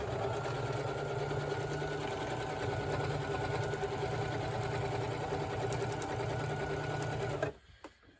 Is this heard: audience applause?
no